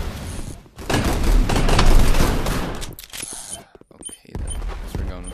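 Rapid bursts of dual pistol fire in the VR shooter Gun Raiders during a deathmatch, loud and dense for about three seconds, then a pause and a few sharper shots, with faint talk mixed in.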